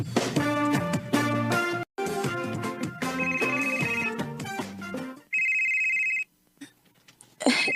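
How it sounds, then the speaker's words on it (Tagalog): A cellphone ringtone sounds, a steady bright electronic tone lasting about a second, after several seconds of loud melodic music that stops abruptly, with faint noises trailing afterward. "tabaga ko na yung cellphone"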